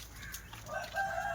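A Sankranti fighting rooster gives a single short crow, fairly close and clear over a faint background.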